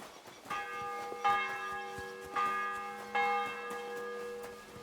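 Church bells toll in the medieval world of Kingdom Come: Deliverance II, with several rich, ringing strikes spaced about a second apart whose long hum lingers between them, heard alone at moderate volume.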